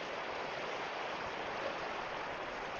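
Steady broadband rush of a river flowing below Devil's Kettle waterfall in Minnesota, heard from a distance as an even, continuous wash of water.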